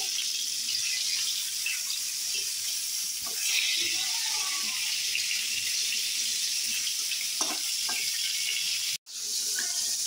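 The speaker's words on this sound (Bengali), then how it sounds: "ডালে ফোড়ন দিয়েছি" Dal being tempered with spices in hot oil gives a steady, loud sizzle and hiss that runs unbroken, with a brief dropout near the end and no talking over it.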